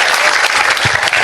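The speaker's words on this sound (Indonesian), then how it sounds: "Tepuk tangan, tepuk tangan, tepuk tangan." Audience applause at a Sinau Bareng gathering with Cak Nun, a dense, steady wash of many hands clapping close and loud for the whole short burst, with no talk over it.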